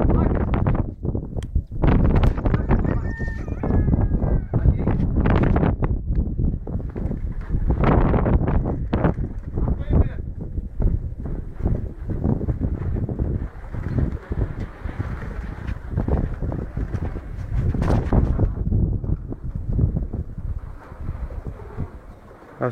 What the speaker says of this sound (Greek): Τώρα φυσάει